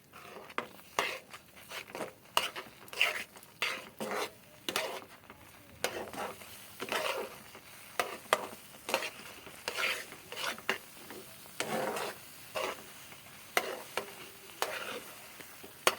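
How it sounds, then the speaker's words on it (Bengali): A spoon stirs palm fruit dough with semolina in a pan, giving repeated soft scraping and sizzling strokes in an irregular rhythm. The sound is close and fairly quiet, with no talking. "এটাকে আমি ভালো করে নাড়িয়ে নাড়িয়ে একটা ডো তৈরি করবো।"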